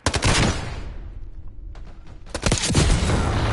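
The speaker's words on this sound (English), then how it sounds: "Flashbang." A flashbang grenade goes off in the video game FragPunk, a loud broadband burst that falls into a ringing hush for about a second before gunfire and game noise surge back in.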